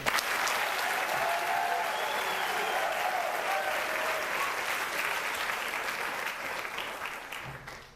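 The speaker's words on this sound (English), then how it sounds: "I want to hear the applause again." An audience at the Distinguished Young Women of Triton 2018 program bursts into loud, sustained applause that holds steady, then gradually thins and fades toward the end.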